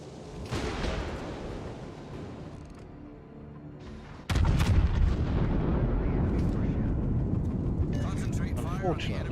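Warship artillery fire in World of Warships: Legends, heavy booming salvos and rumbling blasts that swell into a loud sustained barrage in the second half, with someone talking over the battle.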